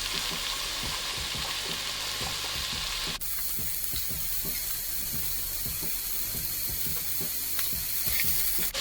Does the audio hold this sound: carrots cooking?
yes